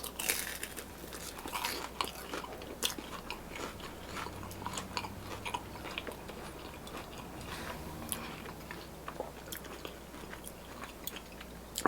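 Close, crisp bites and crunchy chewing of a spicy beef Korean corn dog, a run of irregular crackling snaps and mouth sounds with no talking.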